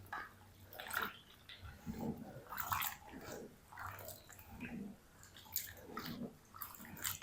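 Potatoes cut into finger-chip shapes are sloshed and rubbed by hand in a bowl of water to rinse off starch. Soft, quiet splashes and wet knocks come in irregular bursts, close by, with no talking.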